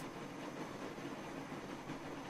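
Super Hudson steam train from Transport Fever running along the track, a steady rushing rumble with soft rhythmic rail clatter, moderately quiet and with no voices.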